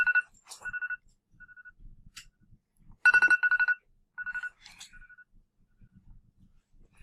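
A phone ringtone chirps in short repeated electronic bursts with gaps between them, moderately loud in an otherwise quiet room, with no talk over it.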